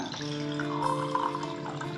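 Alkaline water from a water generator pouring into a container, a steady close trickle with rising tonal ringing as it fills, lasting the whole moment without talk.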